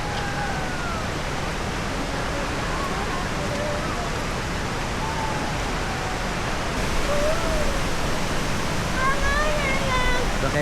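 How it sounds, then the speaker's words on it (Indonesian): Twin waterfall at Lembah Purba in Situ Gunung, Sukabumi, gives off a steady, broad rushing roar of falling water that swells slightly toward the end, with faint higher chirps over it. "akhirnya kita sampai juga di air terjun kembar Lembah Purban"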